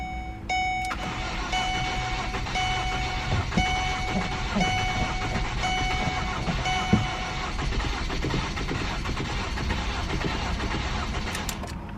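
Ford Focus with a no-start fault, engine cranking continuously over repeated starter turns with uneven sputters that never catch, heard close with mechanical whine and a faint warning chime early on.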